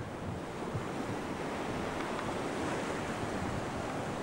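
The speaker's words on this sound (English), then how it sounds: "these are good waves, folks" Pacific Ocean surf crashes and washes in continuously close by, a dense roaring wash mixed with buffeting wind noise on the microphone.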